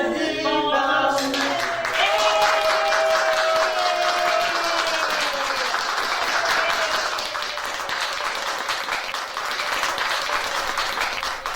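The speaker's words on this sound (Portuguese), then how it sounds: "Uma salva de palmas." Loud applause and clapping fill a festive celebration, a dense steady roar of many hands with cheering and a sung or whistled tone rising over it near the start, continuing unbroken throughout.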